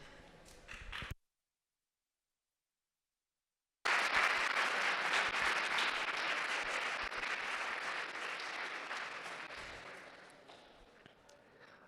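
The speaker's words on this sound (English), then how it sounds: "Well, you get all the claps." Applause from a talk audience at a vegan camp-out, after a brief cut to silence, swells into a broad, dense clatter of clapping that slowly fades away over several seconds.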